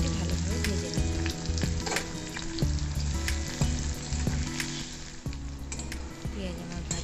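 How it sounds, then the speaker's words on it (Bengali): Sliced onion fries in oil with bay leaf, dried chili and whole cumin for a pointed gourd curry, a loud, continuous close sizzle broken by repeated clinks and scrapes of a spatula against the pan. "আর দিয়ে দিলাম একটি কেটে রাখা পেঁয়াজ। পেঁয়াজটি ভালোভাবে ভেজে নিতে হবে।"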